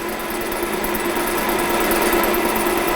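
A metal lathe takes a light facing cut of about 0.3 mm, giving a steady, continuous machine whir with a faint high tonal hum, close by and unbroken for the whole stretch.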